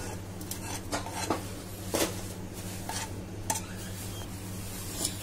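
A utensil scrapes and clinks against a pan while a cooked raw mango mixture is moved onto a plate, with a few sharp metallic taps over a steady low kitchen hum.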